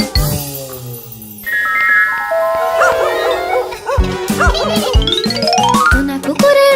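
Cartoon dog barking amid playful animated music with sliding whistles and tinkling tones, the yips and bow-wows landing in quick bursts over the bright, busy soundtrack.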